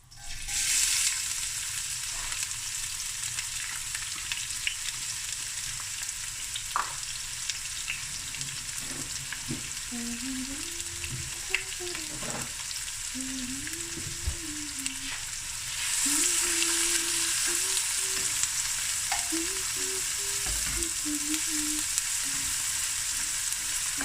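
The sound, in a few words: onions frying in a pan for beef mince akhni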